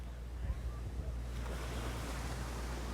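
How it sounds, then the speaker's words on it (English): Choppy sea waves wash steadily on the coast at Dawlish beside the railway line, a continuous rushing surf with wind buffeting the microphone. "Waves are quite choppy as well."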